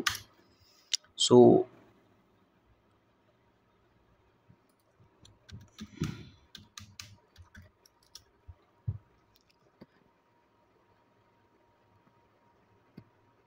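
Keys clatter on a computer keyboard as a search is typed in a web browser: a short, quiet burst of clicks, preceded by a brief voice and followed by a few isolated taps.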